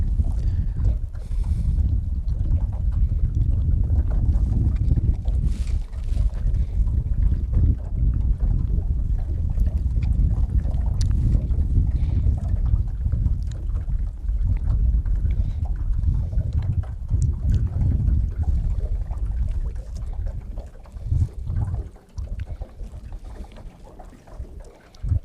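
Steady wind buffeting the microphone outdoors on a fishing trip near water on a cold day, a continuous low rumbling roar with gusty swells that holds for the whole stretch and eases slightly near the end, with no talking.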